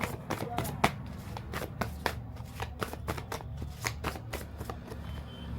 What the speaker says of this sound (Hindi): ये देखिए कार्ड्स आपके सामने शफल हुए हैं।